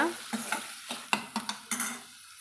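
Tomatoes sautéing in a pan for chayote kurma, a quiet run of spatula stirs and scrapes, about eight short strokes over a faint sizzle, no talking.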